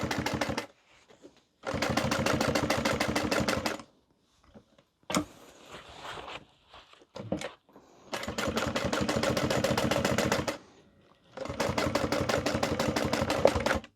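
A sewing machine stitches a tote bag in three loud, fast, rhythmic bursts of a few seconds each, with quiet handling sounds and pauses between runs.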